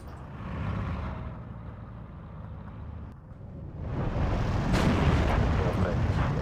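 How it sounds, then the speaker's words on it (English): Heavy booms of artillery fire and battle noise from the Steel Division 2 war game rumble throughout, swelling louder in the second half, while a voice talks quietly underneath. "I guess maybe I can throw the artillery across."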